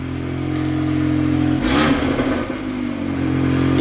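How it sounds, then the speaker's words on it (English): VW Mk8 Golf R with Stage 2 tune, OPF delete and decat, idling then given one quick throttle blip: a short sharp rev rising over the steady idle before settling back. "Give it a little blip."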